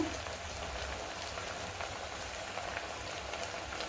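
Ingredients for bhoti curry frying in hot oil: a steady, close hiss and crackle of sizzling that fills the whole moment without pause, and no voices.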